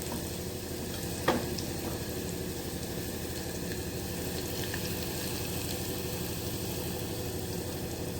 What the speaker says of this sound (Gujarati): આપણે લસણને લાલ કલરનું થાવા દેવાનું છે સતાળી લેવાનું છે